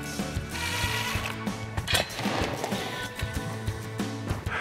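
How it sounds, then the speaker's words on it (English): Ratchet driver backing out Phillips head screws from a channel bracket on a Coleman pop-up camper storage box, rapid clicking pawl bursts with a few sharper knocks, close and loud with no talk. "We have a channel bracket in here to remove Phillips head screws."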